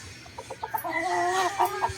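A chicken at a gamefowl sale, a gray High Station bird banded by WPC, gives a short run of clipped clucks that rise into a drawn-out call, close and fairly clear, with no talking.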